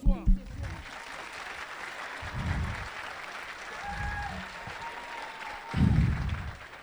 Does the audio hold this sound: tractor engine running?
no